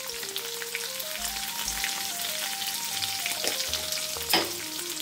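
Curry leaves, dried and green chillies and asafoetida crackle in hot oil as a soft, steady sizzle with a brief louder spit near the end, while a quiet musical tone plays in the background and nobody speaks.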